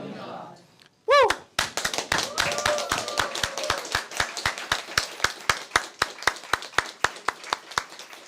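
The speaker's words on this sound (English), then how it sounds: "Another round of applause" A crowd at a library naturalization ceremony bursts into applause after a cheer, with sharp, rhythmic clapping that steadies into a single clapping pattern and fades out, fairly near and loud.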